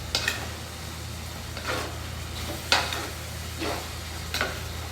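Sugar being stirred into a beef steak marinade, several short scraping and clinking strokes of a utensil against a bowl over a low steady hum.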